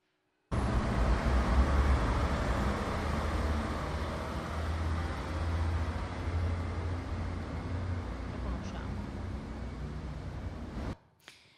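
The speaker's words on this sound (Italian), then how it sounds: "10 secondi di traffico romano intorno ai fori traianei" Roman city traffic around Trajan's Forum in Rome, a dense continuous roar of cars and road noise with a steady low rumble, heard alone for about ten seconds before cutting off abruptly.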